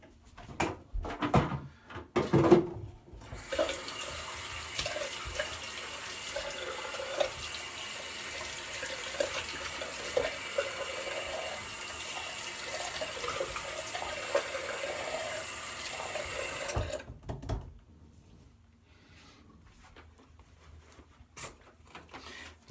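A bathroom tap runs steadily into a sink for a rinse between straight razor shaving passes, a close, continuous hiss lasting about fourteen seconds before cutting off, with a few knocks before and after.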